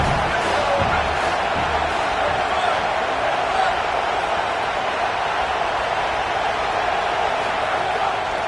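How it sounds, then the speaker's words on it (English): A home stadium crowd in an American football video game roars loudly and without letup, a dense, even wash of cheering and shouting that holds at the same level throughout. "how nice is it to have the home crowd going absolutely bananas?"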